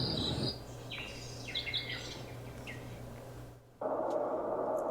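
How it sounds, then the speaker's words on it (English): Small birds chirp and tweet in quick high bursts over a soft steady hiss, played as a bird-chirp sound effect from a Govee Table Lamp 2 Pro speaker, then the sound cuts abruptly to a different ambient texture. "You have your bird chirps."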